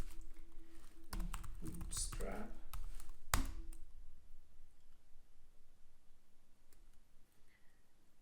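Fast clicking bursts of typing on a computer keyboard while setting up a coding project, close and brisk for a few seconds under a person's speech, then quiet with a couple of isolated taps.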